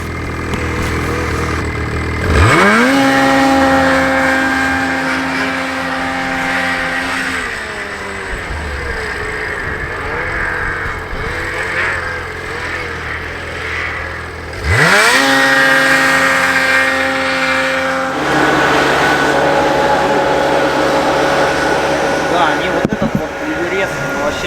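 A snowmobile engine revs up sharply, holds at a high droning pitch, drops back and revs hard again while riding, loud and close, with talk over it.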